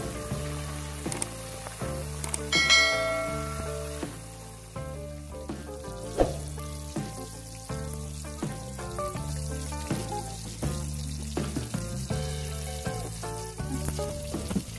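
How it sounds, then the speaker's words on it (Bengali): Pieces of rohu fish fry in hot oil in a pan. A dense, continuous sizzle with crackling pops runs throughout, loud and close, and no one speaks. "রুই মাছগুলোকে এপিট ওপিট উল্টে লাল করে ভেজে নেব।"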